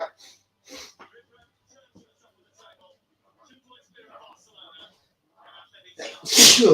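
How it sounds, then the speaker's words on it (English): A single loud sneeze bursts out at the end after quiet breathing and small mouth noises, close to the listener. "I'm sneezing like a good one, excuse me."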